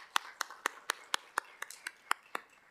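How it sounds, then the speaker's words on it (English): Sparse, evenly spaced hand claps from a small audience, offered for youth presenters at a housing and health committee meeting: about ten distinct claps, faint and somewhat distant, with no voices over them. "Can we get another round of applause for our youth?"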